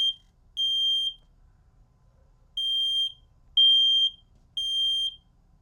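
A Honeywell Lyric LKP500 keypad sounding its fire panic alarm: loud, piercing electronic beeps in a regular pattern, one tone, a pause, then three more evenly spaced tones, in a quiet room.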